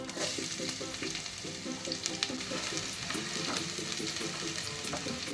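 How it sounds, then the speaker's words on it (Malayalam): Small shallots sizzle in hot oil with already popped mustard seeds for a rasam tempering, a close, steady crackle broken by light spoon clinks as they are stirred. "കടുക് പൊട്ടി വന്നിട്ടുണ്ട് ഇതിലോട്ട് കൊച്ചുള്ളി ഇട്ട് കൊടുക്കാം"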